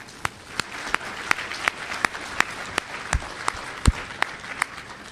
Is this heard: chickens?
no